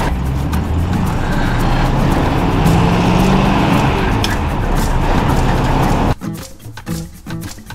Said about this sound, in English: I think it's time to go for a test drive, get some rust off the brakes and see how things work